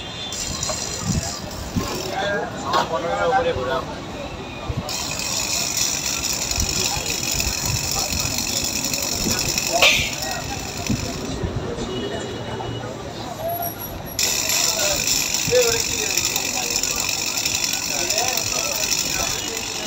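A Yamaha FZS version 3 motorcycle with an ABS fault and a very hard brake gives off a continuous mechanical whirring and rattling noise up close, steady throughout, while someone talks over it.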